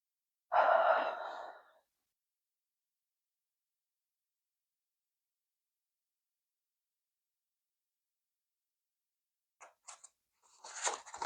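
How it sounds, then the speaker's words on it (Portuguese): Deep breathing during a guided meditation: one long audible exhale or sigh at the start, a stretch of silence, then softer breaths returning near the end, close and alone without speech. "vamos respirar profundamente e fazer a petição silenciosa"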